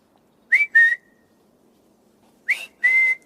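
A person whistles to summon a butler: two quick two-note whistle calls, a pause, then two more, each rising then holding, clear and close in a quiet room.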